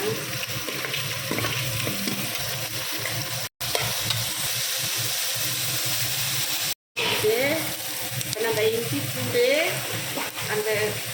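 Onion and green chilli frying in groundnut oil in a pressure cooker for vegetable biryani, with a loud, continuous close-up sizzle and scraping stirs that briefly cut out twice.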